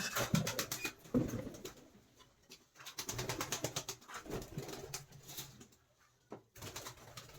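Pigeons released from a rooftop flutter off in bursts of flapping wings, with soft cooing between the flurries. The sound comes in uneven bursts with short quiet gaps.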